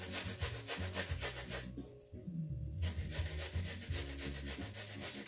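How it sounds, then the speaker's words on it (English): Fresh ginger rubbed on the fine side of a grater in quick repeated rasping strokes, close and steady, with one short pause in the middle. "You want to grater your ginger finely. On the fine side."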